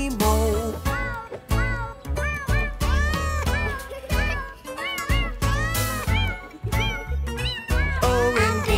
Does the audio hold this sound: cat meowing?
yes